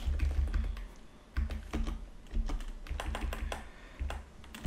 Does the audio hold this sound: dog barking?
no